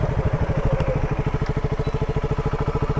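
A heavy motorcycle on a ride to Aamayangri, its engine thumping in a steady, rapid pulsing rhythm, close and continuous throughout with no talk.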